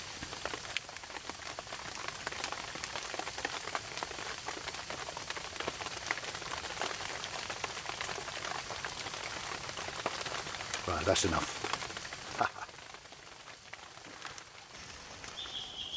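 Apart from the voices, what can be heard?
rain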